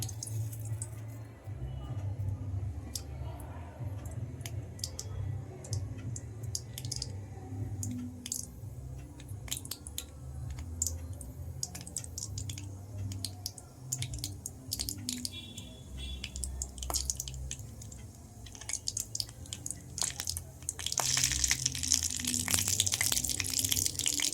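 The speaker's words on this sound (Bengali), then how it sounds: "কালো জিরে ফোড়ন দিচ্ছি" Nigella seeds, black cumin, crackle as they hit hot white oil for tempering, a continuous close sizzle with scattered pops and spits that grows brighter and fiercer toward the end.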